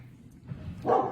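A single short dog bark rises near the end, fairly close and moderately loud, after a quiet stretch of low background hum.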